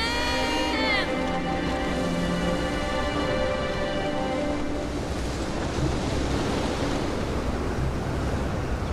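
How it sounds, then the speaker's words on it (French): Strong wind roars steadily as a dense broadband rush, loud and continuous throughout, with a brief tonal cry fading at the start and no clear speech. "Pourquoi le vent souffle-t-il si fort et les animaux sont si agités?"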